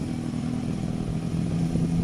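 A Honda CB250 Nighthawk bobber motorcycle with swapped carbs revving nearby, a loud, steady, rough mid-pitched engine drone that holds without pause.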